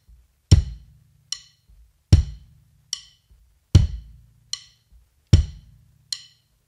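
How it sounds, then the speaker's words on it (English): Bass drum on beats 1 and 3 of an acoustic drum kit, each deep, close thump landing at a steady pulse, with lighter cymbal-like ticks falling between the kicks and no talking. "I like to put the bass drum on 1 and 3."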